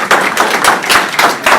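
An audience applauds at a cricket coaching tour event in Sacramento to welcome Saqlain Mushtaq and Kamran Akmal, with loud, close clapping in uneven bursts.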